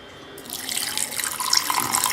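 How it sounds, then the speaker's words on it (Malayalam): Water pours into a mixer jar holding roasted grated coconut for a Malabar-style prawn curry, a steady splashing trickle that starts after a brief quiet moment and continues close and fairly loud. "ഇനി ഇതിലോട്ട് ഒരു 1/2 കപ്പ് വെള്ളം ചേർത്ത് കൊടുക്കുകയാണ്."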